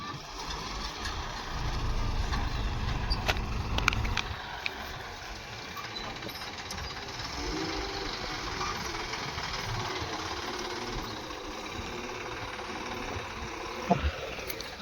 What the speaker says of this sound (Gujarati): મોટા ભાઈ ટ્રેક્ટર ભરીને આવે છે અને સાલો ફટોફટ ખાલી કરી નાખી